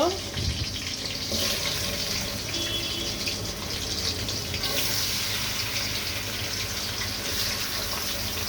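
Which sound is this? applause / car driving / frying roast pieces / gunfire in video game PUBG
frying roast pieces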